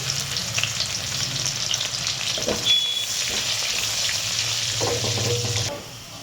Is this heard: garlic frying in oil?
yes